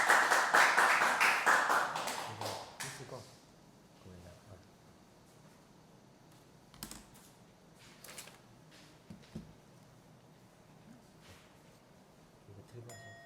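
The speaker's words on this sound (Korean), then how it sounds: "큰 박수로 환영하도록 하겠습니다" A church congregation applauds at a Sunday service as a speaker is welcomed forward, a dense burst of clapping for about three seconds that fades into quiet room noise with scattered knocks and shuffling.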